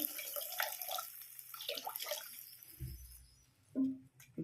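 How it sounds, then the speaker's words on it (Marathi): Water pours briefly into a pan of masala Maggi noodles with a short splashing rush, followed by a soft sizzle, among faint kitchen clatter; no one speaks. "आता पाणी ओतलंय मी"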